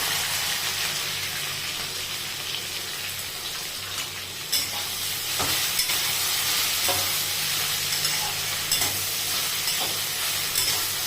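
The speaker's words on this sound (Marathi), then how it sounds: "छान परतून घ्यायचं आहे" Okra and green chillies sauté in a hot pan with a steady, close sizzle, broken by occasional sharp scrapes and knocks of the stirring spoon.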